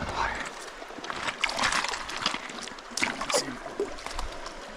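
A cutthroat trout is released into the water, making short slosh and splash sounds close by. People talk over the water noise.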